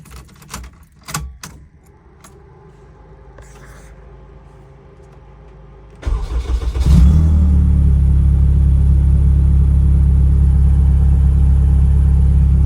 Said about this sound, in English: I guess I could show you guys how I start the car.